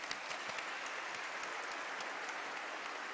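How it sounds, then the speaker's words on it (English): An audience at a university diploma ceremony claps steadily, a soft, somewhat distant patter of many hands with a few sharper individual claps standing out. "It's going to be a lot of clapping today."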